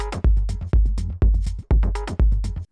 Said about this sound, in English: one of them has a long kick and a short,